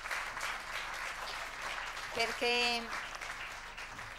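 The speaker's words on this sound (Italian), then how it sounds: "io vorrei un applauso su queste frasi della signora" Applause from a crowd fills the background, a steady wash of clapping beneath a single spoken word and a brief burst of voices.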